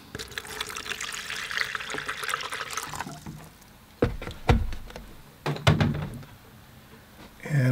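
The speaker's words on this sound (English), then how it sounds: "Pour some water, fresh clean water." Fresh clean water pours into a collapsible container ready for watercolor painting, a steady splashing stream for about three seconds followed by a few sharp knocks and handling clunks.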